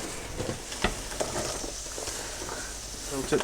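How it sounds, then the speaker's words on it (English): Onions sizzle softly in melted butter over fairly high heat as the base for kedgeree, with a faint, steady crackle and a few light knocks of a utensil. "melt the butter on a fairly high heat, not completely high, you don't want to burn it, and throw the onions in"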